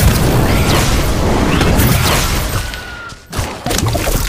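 An Incendio fire spell cast in a Harry Potter video game, a loud, roaring burst of flame and crackling that drops off sharply near the end and then flares back up.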